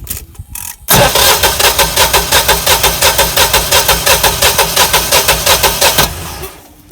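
A Generac generator engine cranks steadily for about five seconds in a fast, even rhythm of loud chugging pulses without catching, then winds down into quiet.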